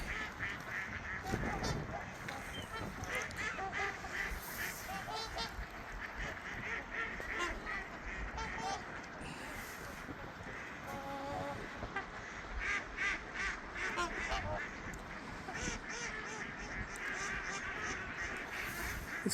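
Ducks and geese quack and honk at a distance on a Minnesota lake over steady outdoor background noise, with faint voices now and then.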